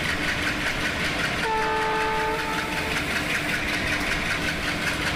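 Maitree Express locomotive speeding up during shunting in Kolkata, a loud continuous engine and rail roar with a sustained multi-tone horn sounding partway through.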